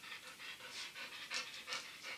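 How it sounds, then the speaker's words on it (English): A big dog pants steadily and close by, with quick rhythmic breaths repeating for a couple of seconds and no one talking. "I got sidetracked. By a big dog."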